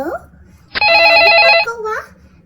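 A telephone rings during a phone call in a Barbie doll toy play scene. One bright electronic ring bursts out for about a second, with voices talking just before and after.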